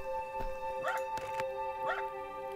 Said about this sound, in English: Woof woof, says the dog. Hyper dog.